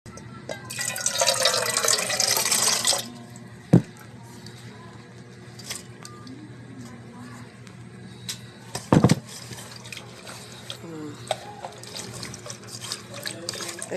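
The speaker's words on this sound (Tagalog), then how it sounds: "Kailangan 3 times hugasan ng maigi bago pakuluin ng tubig." Tap water runs steadily into a sink while leafy vegetables are washed, loud and close for the first few seconds, then quieter splashing and handling with a couple of sharp knocks, and a voice talking faintly in the background.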